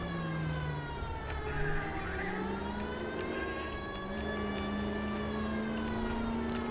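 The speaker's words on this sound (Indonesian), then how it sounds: "kita bunyiin sirine lah biar cepet coy" A police car siren wails continuously in the video game L.A. Noire, a steady rising and falling tone over a low engine drone throughout, with no speech.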